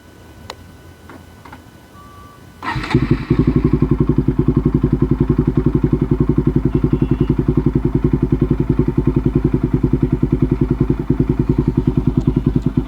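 A Bajaj NS200 200cc motorcycle starts with a brief crank, then settles into a loud, close, steady idle with a rapid, even ticking pulse running unbroken to the end.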